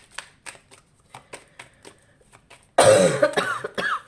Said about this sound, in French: Excusez-moi pour ma toux, hein, je suis désolée.